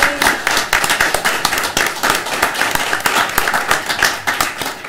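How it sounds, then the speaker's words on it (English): A small crowd at a school board meeting claps steadily for several seconds, a dense patter of hand claps without cheering or talk. "get your applause"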